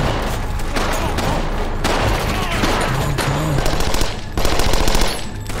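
Gunfire from a zombie TV drama episode: rapid, dense automatic bursts and scattered shots crackle loudly and continuously, mixed with chaotic action sound and faint voices.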